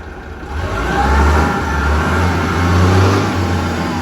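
A diesel engine of a Doosan 7-ton forklift revs nearby, its roar swelling and easing in waves, with no voices.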